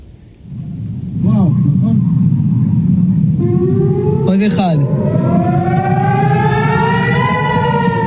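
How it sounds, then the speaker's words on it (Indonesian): An air raid siren in Israel rises and holds a loud, steady wailing tone whose pitch climbs gradually, droning continuously over a low background rumble. "Sirine udara diaktifkan di kota Dimona, Beersheba, dan Eilat."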